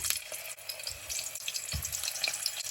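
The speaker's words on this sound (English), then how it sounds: "So now that I think my oil is hot, I'm going to put my plantains in here" Green plantains for tostones crackling and sizzling in hot oil in a covered pot, a close, busy spatter of pops and hiss with no voices.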